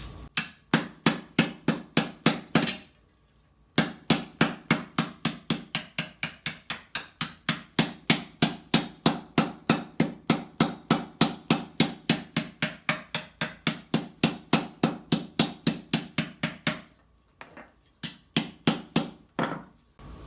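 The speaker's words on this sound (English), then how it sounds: "I have to do the same amount of hammering to the other side" Metal armor faulds are being shaped with a hammer: a long, steady run of sharp, ringing blows struck close by in quick, even rhythm, broken by two brief pauses.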